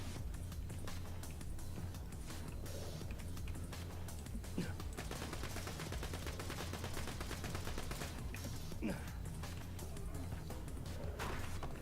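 Rapid automatic gunfire from a Vladof Infinity pistol in Borderlands 2, a steady stream of shots running for the whole stretch with game sounds mixed in and no pause in the firing.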